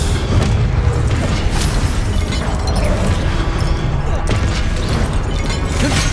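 The Confringo explosion spell fires in Hogwarts Legacy, giving a loud, dense run of booming blasts and crackling bursts in the middle of game combat, with voices speaking over it.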